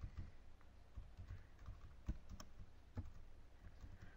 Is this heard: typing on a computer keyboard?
yes